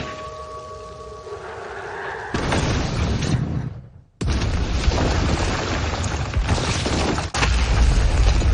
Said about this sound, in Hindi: एक बड़ा सा धमाका कर सकते हो